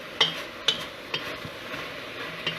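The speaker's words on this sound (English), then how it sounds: "now we're just getting a sizzle" Vegetables sizzling in olive oil in a pan, a soft steady sizzle close by, broken by a few sharp clicks of a utensil against the pan.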